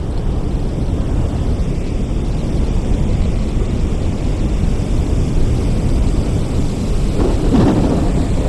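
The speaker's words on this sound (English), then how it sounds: "A storm is coming." A thunderstorm in the video game Forever Skies rumbles as loud, continuous thunder and rain, with a deeper swell of rolling thunder near the end, no talk.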